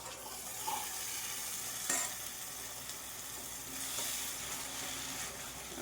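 Paneer masala spices, Kashmiri red chilli powder and turmeric, sizzling in a pan while being stirred; a continuous close frying hiss with scraping stir strokes and a few clinks, no speech.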